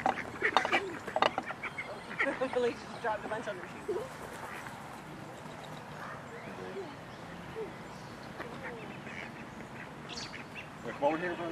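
Ducks at a zoo quacking in short, scattered bursts, moderately close, mixed with outdoor background noise and people talking nearby.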